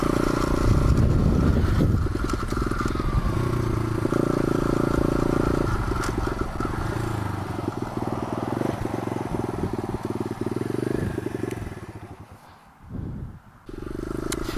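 A 125cc pit bike engine revs hard at top speed, a loud continuous droning whine with shifting pitch and wind buffeting, dipping briefly near the end before picking back up.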